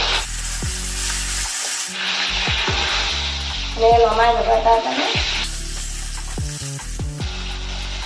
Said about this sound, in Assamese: এক চাইডটো ৰঙা হৈ গৈছে আৰু এক চাইডটো ভাজিব এনেকৈ ৰঙাকৈ